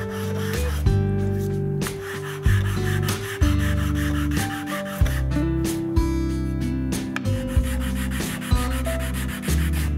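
Hand sanding a knife handle with diagonal strokes, close and loud, with steady back-and-forth rasping rubs in an uneven rhythm, some strokes sharper than others, with no voices.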